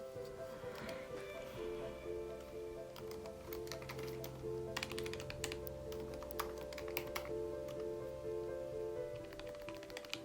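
Computer keyboard typing comes in quick irregular bursts of soft clicks and taps, fairly faint, over a low steady background hum with a tone running underneath.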